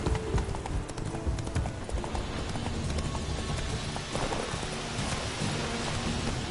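Hooves of the horse Roach clip-clopping in a continuous, brisk walking rhythm, loud and close, over a busy game soundscape.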